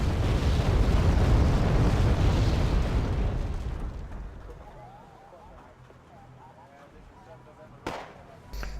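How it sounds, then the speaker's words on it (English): Mortars fire in the modern warfare strategy game Wargame: AirLand Battle, producing a heavy, rumbling barrage of booms that fades after a few seconds, followed by a couple of sharp bursts later on, with someone talking over it. "that's my mortars firing"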